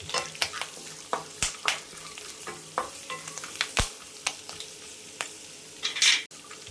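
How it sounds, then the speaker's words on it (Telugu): Masala and fried curry leaves are stirred in a pan for a spicy murmura snack, giving a soft, steady sizzle broken by repeated close spoon scrapes and taps against the pan. "ఇప్పుడు మనం తయారు చేసుకున్న మసాలా వేసుకుని మొత్తం కలిసేటట్టు 2 నిమిషాలు కలుపుకోవాలండి"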